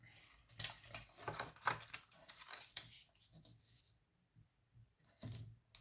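A scrapbooking cardboard box for a Christmas bauble is folded and creased with a bone folder, giving quiet scraping, tapping and crinkling paper sounds in irregular close bursts with pauses between them.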